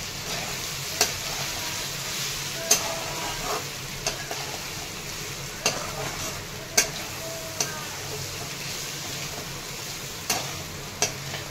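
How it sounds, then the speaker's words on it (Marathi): Potatoes fry in a pan with peanut powder and red chili, giving a steady soft sizzle throughout, broken by a series of sharp spoon taps and scrapes as they are stirred. "बटाटा आधी थोडं परतून घेते"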